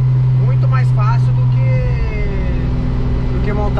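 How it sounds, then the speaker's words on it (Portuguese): A Volkswagen Beetle fitted with a Subaru engine runs at a steady, close idle, producing a loud, even rumble with a low droning tone, while people talk over it. "Olha o som do carro."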